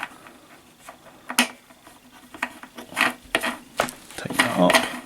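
Fixings being tightened on the filter of a BenchVent A300S-D extractor fume cabinet: a quiet series of small clicks and ratcheting ticks, irregular and close, growing busier toward the end.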